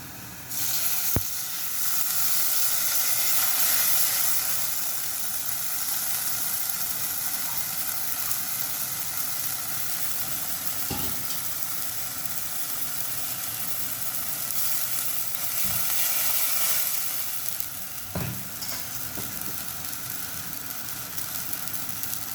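Ground chili, coriander and turmeric paste sizzles steadily in a hot pan for a dried fish and mango curry, a continuous close frying hiss with a few soft clinks and stirs, no talking.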